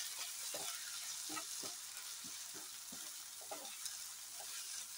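Chicken liver pieces coated in chili powder are stirred in a hot frying pan, a steady loud sizzle carrying repeated scraping strokes of the spoon with no voices.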